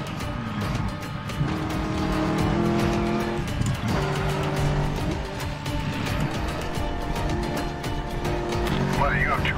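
Cars driving at speed in the Medal of Honor Warfighter video game, with steady engine drone, tire noise and a squeal near the end under game music and radio chatter.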